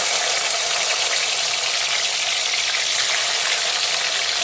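Soaked cashews and raisins frying over low heat in a pan, a steady, even sizzle that holds at constant loudness throughout with no other sounds.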